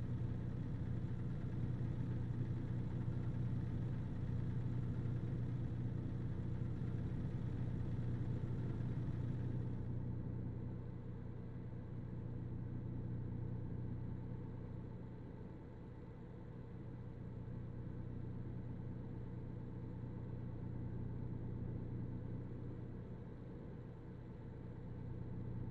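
Steady low truck engine drone from American Truck Simulator, idling and cruising with a constant rumble that continues unbroken, loud and close with no talking over it.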